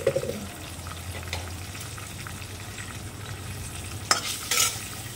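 Onion frying in a pan of curry-leaf-scented oil for a potato filling, a steady low sizzle with occasional spoon scrapes and stirring clatter, close and unbroken, louder bursts near the end.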